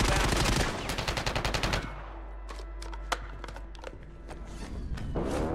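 Automatic gunfire in Warzone, a rapid loud burst of shots in the first two seconds, followed by scattered single shots and quieter in-game ambience.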